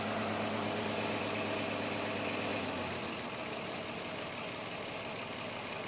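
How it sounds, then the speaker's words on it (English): An Audi Q7 engine runs at idle in a workshop, a steady close mechanical drone with a slight change in tone midway and no talk. "as you can hear, the engine is running."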